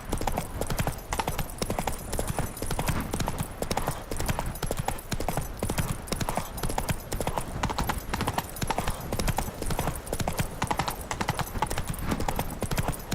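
Roach the horse gallops in The Witcher 3, with rapid, rhythmic hoofbeats pounding steadily and evenly throughout, close and prominent.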